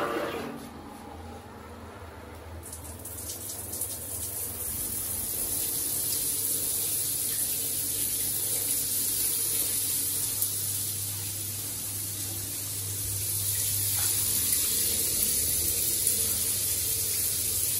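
A wide shower head in a tiled shower tray runs at full flow, giving a steady, loud hiss of spraying water that starts after a short quiet moment and continues evenly to the end.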